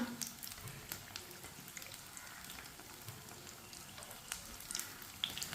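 Egg pakoras fry in hot oil with a faint, steady sizzle and scattered small pops and crackles, no voices over it.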